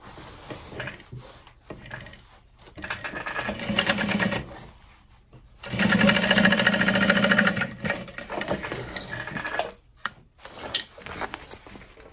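A sewing machine bastes the lining and outer pieces of an Elina backpack together, zipper pulls tucked in. It runs in two steady mechanical stretches with a short pause between, moderately loud and close, with no talking.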